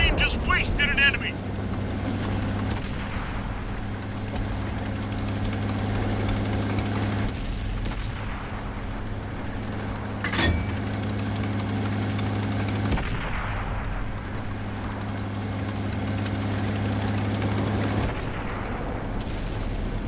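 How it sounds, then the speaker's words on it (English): A damaged Sturer Emil tank destroyer engine in World of Tanks drones with a steady low hum through the whole stretch, broken by several sharp cannon-like booms spaced a few seconds apart. "Dragging along a little here because we got that engine damage."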